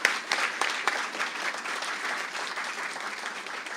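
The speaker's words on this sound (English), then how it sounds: "So one last round of applause for the whole group" A seated crowd at a golf club foundation scholarship announcement gives a round of applause, even and moderately loud, steady clapping without voices.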